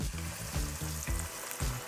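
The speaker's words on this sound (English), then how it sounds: "What we're going to do now then, Claire, we're going to fry the croquettes." Duck croquettes fry in oil heated to 180 degrees, giving a close, crackling sizzle that swells in short repeated bursts with no one speaking.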